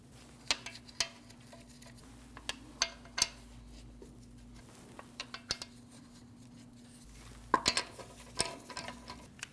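Five steel lug nuts are threaded onto the wheel studs of a 2012-2016 Honda CR-V and snugged down, giving a scattered series of sharp, close metallic clicks and clinks over a quiet background.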